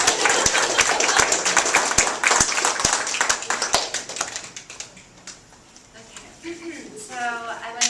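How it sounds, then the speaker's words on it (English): An audience claps in a brisk burst of applause at a meeting, fading out after several seconds as a voice begins speaking. "We clapped the whole way for people in here."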